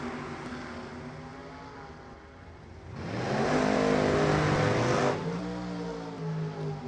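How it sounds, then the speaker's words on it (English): Turbocharged drag racing cars at an NHRA divisional race roar down the strip, a loud sustained engine rumble that swells sharply midway as they pass close, then eases to a steady drone. "Turbos going at it."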